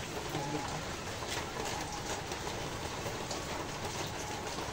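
Steady rain falls continuously, a dense even hiss with scattered drop patter, fairly close and unbroken for the whole stretch; a faint voice sits low beneath it.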